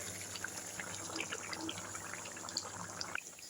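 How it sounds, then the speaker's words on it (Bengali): Water is poured into a pot of gourd curry with fish as it cooks, making a faint, continuous gush that stops abruptly near the end. "পানি দিয়ে দিলাম।"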